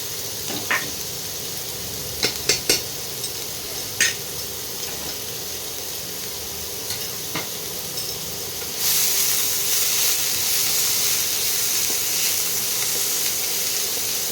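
Chopped onion goes into a hot pan and sizzles steadily, with a few sharp utensil clinks early on, then the frying hiss swells louder and denser partway through as more onion hits the oil.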